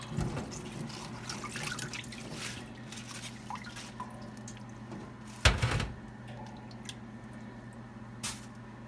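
Wet dripping and splashing as vegetables are lifted out of soaking water, with a sharp splash midway and scattered drips before and after.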